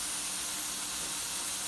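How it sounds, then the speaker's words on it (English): Cooking spray hisses onto a 9 by 13 inch baking dish in one steady, close, continuous spray. "now I'm gonna give my pan a spray."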